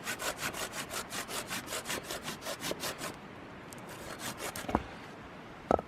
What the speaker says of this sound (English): So I tend to try cutting my wood starting at the bigger end